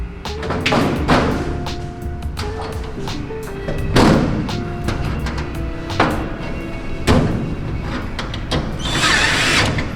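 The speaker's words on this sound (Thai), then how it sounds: "เสร็จแล้วทีนี้ทำการยึดน็อตได้เลยครับ" A power drill whirs in repeated bursts as it drives bolts into a glass-topped cabinet during assembly, loud and close, with short thuds and clatter between the runs of the motor.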